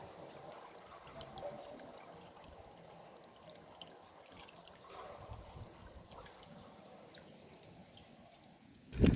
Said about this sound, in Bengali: এই গেট, এই গেট এবং এই গেট থেকে দেখুন নিচে জল যাচ্ছে